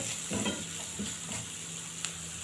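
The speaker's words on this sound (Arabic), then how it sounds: "قلبت كويس كده لحد لما ريحه التوابل طلعت كده معايا" A spoon scrapes through spices frying in a pan, faint soft sizzling beneath a few quiet stirring strokes and a single small clink, heard up close with no talk.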